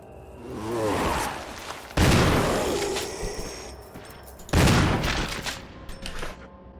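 Gunfire in Resident Evil 1, two loud sharp blasts each trailing into a long booming decay, with a softer whooshing effect before the first; no talk.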